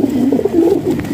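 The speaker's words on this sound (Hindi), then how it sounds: "ये जी एक और गदरा कबूतर है" Domestic pigeons, including a gadra pigeon among birds offered for sale, coo in soft, continuous low warbling phrases, close and steady with no voices over them.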